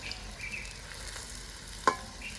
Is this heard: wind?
no